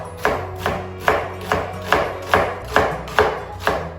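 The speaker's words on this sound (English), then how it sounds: "Then I have some French onion cut in julienne." Knife slicing French onion into julienne strips on a board, heard as nine evenly spaced crisp chops about half a second apart, close and clear with no talk.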